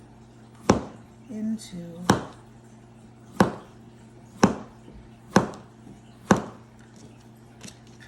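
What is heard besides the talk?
slicing zucchini with a knife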